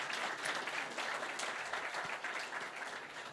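Audience applause at the close of a talk in a conference hall at a chess event, steady dense clapping from a crowd, moderately distant and unbroken for several seconds.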